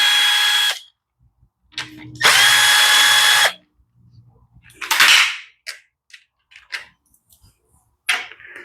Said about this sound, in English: Now let's pull the bolts that hold the carburetor on.